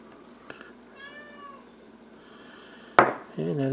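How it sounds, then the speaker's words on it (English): A pet cat meows plaintively to be let outside, a drawn-out close cry followed by a louder sharp meow, with faint knocks and a short burst of a voice. "And that is my cat. My cat wants to go outside."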